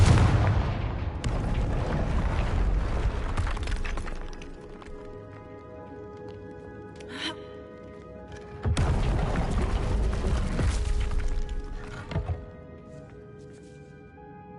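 A Confringo blasting spell from Hogwarts Legacy detonates in two loud, booming bursts with rumbling decay, the second blast arriving several seconds after the first, followed by lighter crackling debris.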